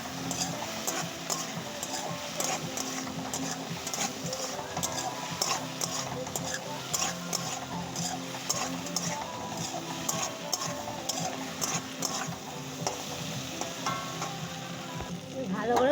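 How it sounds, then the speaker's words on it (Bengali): A ground paste of green chili and ginger sautéing in a pan after milk has gone in, sizzling steadily while a spoon stirs and scrapes in a busy rhythm, heard up close throughout. "এই যে কাঁচা লঙ্কা আর আদাটা ভালো করে এবার কষিয়ে নিতে হবে"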